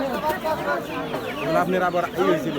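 Chickens, including farm-raised birds, cluck and squawk steadily in a busy crowd at a large rural market, the calls close and overlapping amid people's voices.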